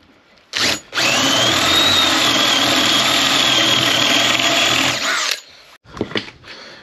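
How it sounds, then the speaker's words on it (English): A power drill bores countersunk holes during a workshop build, one loud sustained whirring run lasting about four seconds, followed by a couple of brief spurts and some handling noise. "I've got to put the next 4 countersunk holes"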